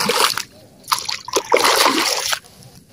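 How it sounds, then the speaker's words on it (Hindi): Feet are washed in river water at a ghat, giving irregular splashes and sloshing in short bursts, close and fairly loud, with a brief trickle at the end. "हमारा पैर गंदा हुआ है तो इसमें अभी पैर धुलेंगे।"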